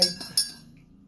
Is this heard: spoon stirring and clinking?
yes